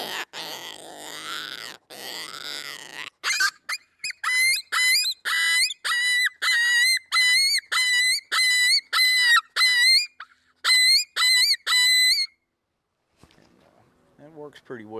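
A handheld predator call imitates coyotes fighting over a dead rabbit, giving a rapid series of loud, strained yelps and squalls in short bursts, preceded by a couple of longer groaning howls.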